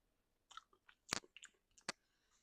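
Home-cooked kids' recipe being taste-tested, with faint, close crunchy chewing and a few sharp bites in short irregular bursts, quiet and without talk.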